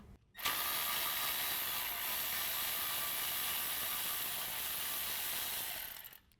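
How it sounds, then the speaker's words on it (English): A 10 mm socket on a ratchet spinning off the brake hose bolt at the steering knuckle of a 2015-2020 Ford F-150, giving a rapid continuous clicking that runs about six seconds close up before stopping. "we'll use our 10 millimeter socket to disconnect our brake hose from the steering knuckle"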